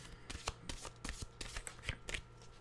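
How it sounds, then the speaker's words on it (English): A deck of oracle cards being shuffled by hand, a run of crisp riffling bursts and soft slaps in an irregular rhythm, close and moderately quiet with no talking. "I guess these cards needed a shuffle, because a shuffling we did"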